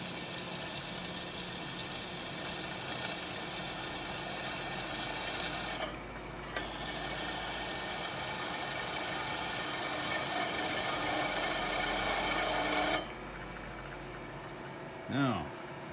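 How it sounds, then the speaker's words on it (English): A horizontal boring machine center drills with a steady grinding, rattling whir that shifts partway through, then cuts off abruptly, followed by brief speech at the end. "And I'll just center drill."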